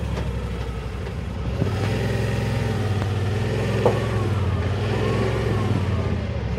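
2018 Yamaha Wolverine X4 side-by-side driving slowly around a parking lot, a steady mid-pitched engine drone with a low rumble and a slight rise in revs, heard close and continuous with no talk.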